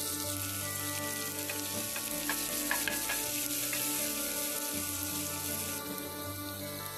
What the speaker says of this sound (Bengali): এবার দিচ্ছি পেঁয়াজ